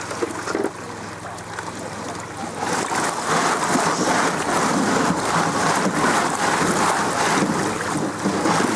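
Water pours and splashes over gemstone gravel in a rinsing tray while rocks are hunted, a broad, steady rush that swells louder partway through and carries on to the end.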